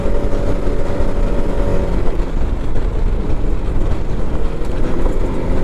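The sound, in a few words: Can-Am Maverick X3 DS Turbo RR driving on trail at 50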